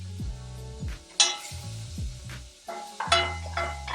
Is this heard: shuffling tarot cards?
no